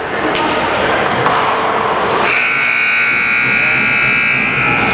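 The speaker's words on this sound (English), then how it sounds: "The sound of the buzzer" A loud, sustained electronic buzzer ends the second period of a youth ice hockey game, sounding over the noisy, echoing crowd din of the arena and continuing steadily to the end.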